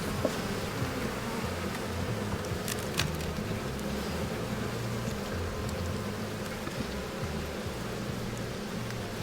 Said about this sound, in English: I use smoke to help run bees off the next comb section I'm preparing to cut.